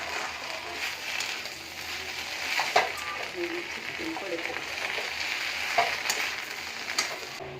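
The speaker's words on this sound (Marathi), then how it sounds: "आता हे सगळं आपण असं मिक्स करून घेऊया।" A spatula stirs and fries a Schezwan dosa mixture in a pan, giving a steady sizzle with scraping clicks and a few sharper taps, close and moderately quiet.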